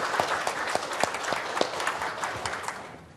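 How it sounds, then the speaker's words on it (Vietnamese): Audience at a university soft-skills seminar clapping to welcome guests, a steady wash of applause with distinct individual claps standing out, gradually tapering off at the end. "Một tràng pháo tay để chúng ta chào mừng tất cả những vị khách mời của chúng ta ngày hôm nay."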